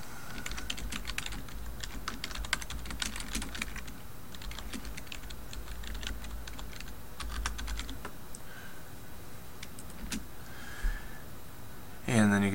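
Someone types on a computer keyboard nearby while setting up a typed voice for a Voki in PowerPoint, giving quick clattering keystrokes in irregular bursts with some talking mixed in.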